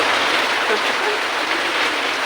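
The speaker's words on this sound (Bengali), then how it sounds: "জোরে জোরে আসছে বৃষ্টি আরও জোরে আরও জোরে হয়ে যা" Heavy rain pours down steadily in a dense, continuous hiss with no breaks, loud and close throughout.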